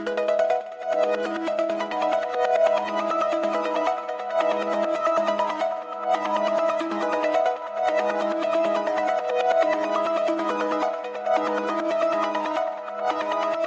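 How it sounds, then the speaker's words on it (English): A plucked synth tone from a Serum preset bank plays a steady, repeating melodic pattern of short bright notes, continuous and alone throughout. "It's this pluck number 9 from Oblivion Serum Bank"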